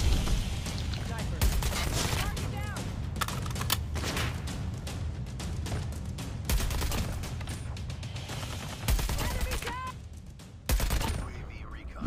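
Rifle fire from a DRH in a video game: dense bursts of sharp shots, loud and close, in rapid strings with brief gaps, ending in a louder final volley.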